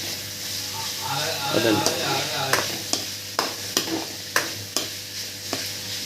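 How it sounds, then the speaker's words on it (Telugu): Paneer pieces fry in butter in a pan with a constant close sizzle, punctuated by a regular series of sharp scraping stirs, while a voice speaks briefly. "గోల్డ్ కలర్ వచ్చేదాకా వేపుకోవాలండి పన్నీర్ ముక్కల్ని"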